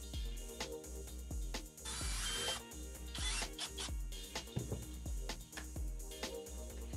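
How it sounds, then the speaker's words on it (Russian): A self-tapping screw is driven through a metal washer into the end of a wooden block, heard close as a run of short rhythmic tool pulses with two longer grinding bursts, no talking. "Далее эту шайбу саморезом прикручиваю к торцу подвижной части."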